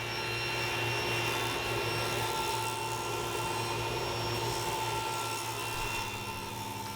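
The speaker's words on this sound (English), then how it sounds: "Now I can push my board through and get this bevel without taking any material off the top." A table saw cuts a bevel along the edge of a wooden board pushed along the fence for a modern chair, giving a steady loud whine and rasp with a constant motor hum for the whole stretch.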